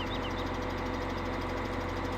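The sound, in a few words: truck engine idling in video game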